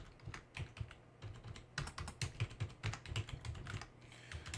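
Fast typing on a computer keyboard, close and fairly quiet, with quick uneven bursts of clacking keystrokes and short pauses between them.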